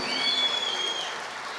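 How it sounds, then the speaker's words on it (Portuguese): A church conference audience applauds in a dense, even roar of clapping that fills the space alone without speech, with a faint high tone ringing above it. "é Ele que é digno de todo o som das palmas que está acontecendo aqui"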